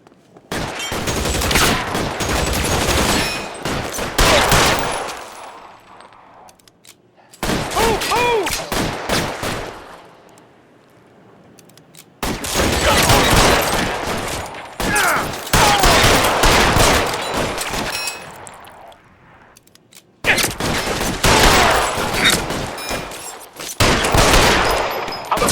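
Rapid gunfight bursts from the L.A. Noire video game, with several dense stretches of loud gunfire separated by short quiet gaps, heard alone.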